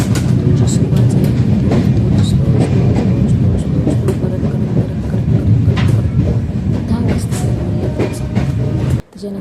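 A train runs on the tracks close by, a loud continuous rumble and clatter of wheels and carriages that holds steady for the whole stretch before a sudden drop near the end.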